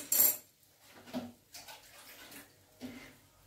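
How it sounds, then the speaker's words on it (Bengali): Water is poured from a mug into a cooking pot of vegetables, giving soft splashing bursts with a few metal clinks, faint and close. "এবার আমি জলটা দিয়ে দেবো।"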